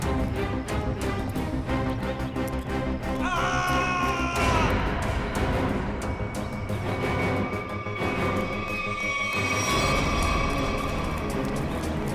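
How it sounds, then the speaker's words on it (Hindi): A person screaming in a crowded outdoor tourist spot, a loud sustained high cry rising over a busy background of crowd noise and music, with a long held wail in the second half. "ये चीखने की आवाज कहाँ से आई?"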